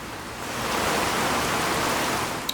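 Steady rain pours in Fallout 4, a dense even hiss that swells slightly after the first half second and holds loud and constant, with no voices over it.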